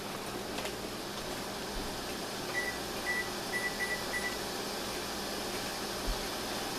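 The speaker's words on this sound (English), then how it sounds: "let me set my timer for 1 minute." A kitchen timer gives a short series of faint, high beeps while being set for jelly making on the stove, heard under a steady background hum.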